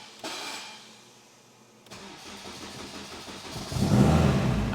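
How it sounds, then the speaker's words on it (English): An AWD Honda Civic Type R with a newly replaced starter cranks briefly, then catches and settles into a close idle before its revs climb louder toward the end. "Let's fire her up."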